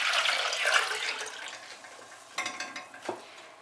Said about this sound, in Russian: заливаем водой оставшейся